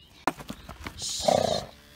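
Horse shifting nearby during grooming: a few soft hoof thuds and shuffles at first, then a short close snort or whinny-like blow toward the end, all brief and fairly quiet.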